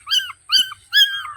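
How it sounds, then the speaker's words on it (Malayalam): A frightened stray puppy whimpers and yips in three separate high, wavering cries, close and fairly loud, with short silences between them. "ഇതാണ് പട്ടിക്കുട്ടി."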